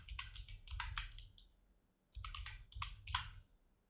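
Two bursts of quick keyboard clicks as a file name is typed on a computer keyboard, close and crisp, separated by a short pause, with no talking.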